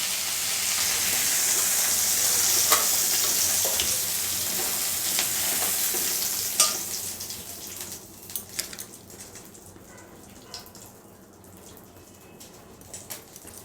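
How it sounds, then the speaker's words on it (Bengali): Prawns lightly frying in oil in a pan for a prawn malai curry, a steady close sizzle that is loud at first and then fades quieter, with a few sharp clicks and pops near the end. "হালকাভাবে ভেজে নেব ভেজে আমি চিংড়ি মাছগুলো এবার একটি পাত্রে তুলে দেবো"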